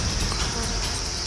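Japanese honeybees buzz in a dense, steady swarm close by inside an opened budget flow-hive box.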